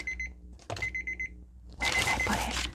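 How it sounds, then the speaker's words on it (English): An alarm clock rings in repeated bursts of bright electronic beeps, close and loud, followed by rustling handling noise as it is found; no speech is heard. "Oh, there's my alarm."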